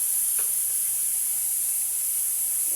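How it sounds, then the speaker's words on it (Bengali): Cauliflower frying in a pan with a little salt, a loud even hiss of oil sizzling continuously at close range, with a faint brief stir, no talk. "এবারে কপিটা ভাজবো"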